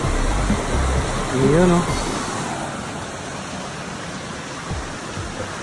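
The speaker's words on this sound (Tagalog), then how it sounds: "Dito yung mas malakas na agos na part." Strong river current rushing on a nature trail, a steady broadband roar close by, with someone briefly speaking over it.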